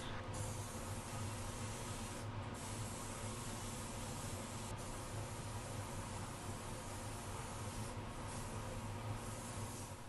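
A spray gun hissing steadily as it applies 2K epoxy primer to Jeep parts, a continuous airy spray with brief pauses.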